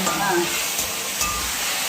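Jackfruit chips fry in a pan with a loud, steady, close sizzle that carries on unbroken throughout.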